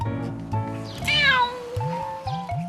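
A pet cat at home meows insistently to be let outside for a walk, one long drawn-out meow followed by several shorter ones, close and loud, with no talking.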